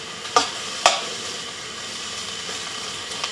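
Steady sizzling and hiss of garlic chicken stir-frying in a pan on a Volcano stove, with two sharp clinks of a utensil early on and a fainter one near the end.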